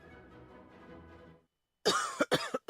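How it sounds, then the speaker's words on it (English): After a low murmur of sound fades to silence, a person lets out a burst of several harsh coughs, close and loud. "I can't sleep with this cough."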